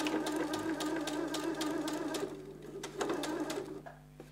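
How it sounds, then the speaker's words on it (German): A sewing machine stitches around a homemade fabric tote bag, its needle whirring in a steady close rhythm before slowing and stopping. "du nähst hier von dieser Markierung rundherum bis zur nächsten Markierung"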